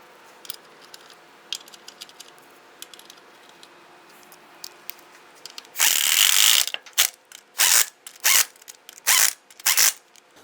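Ratchet snugging lug nuts on a 2002-2008 Dodge Ram 1500 wheel, close loud bursts of rapid clicking in a stop-start rhythm after a quieter stretch of small handling noises.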